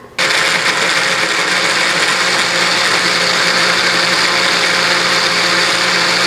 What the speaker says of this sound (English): So I'm going to use my blender, and it processes it really fine.